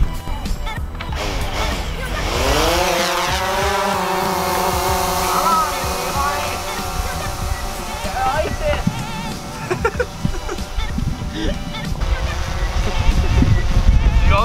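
Motors of a DJI Phantom 4 drone spin up with a rising whine whose pitch sweeps upward and then holds at a steady, loud buzzing hum, with people talking nearby over it.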